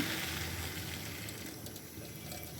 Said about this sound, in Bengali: গরম পানি